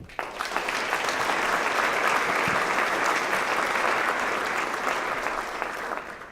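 Sustained applause from a large crowd at a staff of the year awards ceremony, steady and loud throughout, a dense wash of clapping with no voices standing out.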